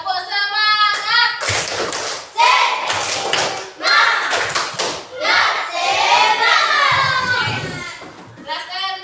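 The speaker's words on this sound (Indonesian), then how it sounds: "Tepuk semangat." Sixth-grade pupils in a classroom perform a group spirit clap, with loud bursts of rhythmic hand claps mixed with their chanting and shouting voices, close and lively.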